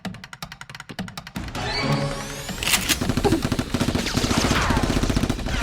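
Rapid bursts of toy Nerf blasters firing in a staged backyard Nerf battle, a fast string of sharp pops at the start that turns into a dense, continuous volley of shots with clattering mechanisms.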